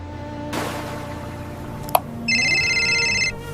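An incoming call rings out on a telephone with a short electronic ringtone burst near the end, preceded by a sharp click and low background music.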